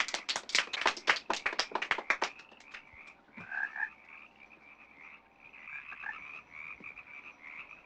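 Frogs croaking at a party in a film adaptation of Cannery Row, a burst of rapid clapping-like croaks at the start giving way to scattered fainter croaks and chirps.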